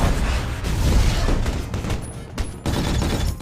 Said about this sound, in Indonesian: musuh terus menghujani mereka dengan peluru dan RPG